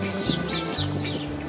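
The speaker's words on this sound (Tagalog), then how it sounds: "Naririnig nyo ba yung mga ibon?" Several birds chirp outdoors around a seaport village, their short, repeated rising calls coming at an even pace over a steady background hum at moderate loudness.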